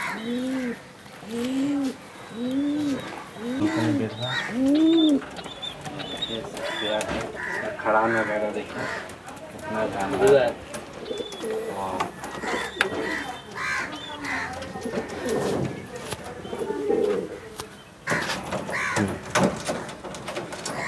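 Low, rolling coos of Madrasi pigeons repeat rhythmically up close in a pigeon loft, then someone talks over continuing bird calls and cooing in the background.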